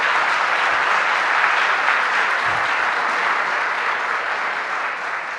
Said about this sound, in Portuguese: Vamos dar uma salva de palmas a essa palavra maravilhosa.